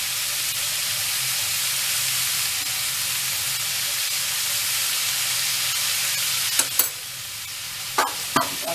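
Stuffing for stuffed capsicum with green chilli and salt frying in a pan, a steady close sizzle throughout with a few scraping stirs of a spoon near the end.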